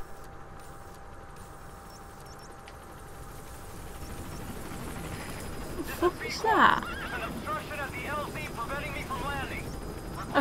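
D-Horse, the horse companion in the video game Metal Gear Solid V, lets out a loud, close whinny midway through, with hoof clip-clop and ambient game sounds before and after.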